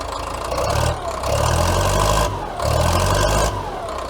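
An old Caterpillar wheel loader, stored dead for over a year, idles with a steady low diesel rumble that swells slightly in two surges, heard close and alone.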